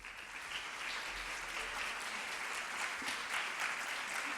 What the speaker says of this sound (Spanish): os pido un aplauso muy grande para Ana Carrillo.